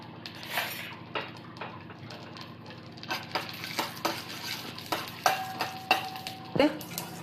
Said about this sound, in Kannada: ಸ್ವಲ್ಪ ತುಪ್ಪ ಹಾಕ್ಕೊಂಡು ನಾನು ಚಟ್ನಿಗೆ ಒಗ್ಗರಣೆ ಹಾಕ್ಕೊಳ್ತಾ ಇದ್ದೀನಿ.